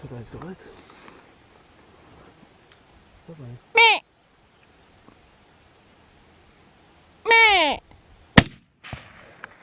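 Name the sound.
rifle shot while deer hunting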